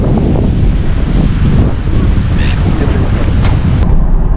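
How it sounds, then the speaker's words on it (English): Strong wind at Coffs Harbour beach in New South Wales, Australia, roars continuously and loudly, buffeting the microphone, with surf noise blended into the gusts. "That wind is very strong."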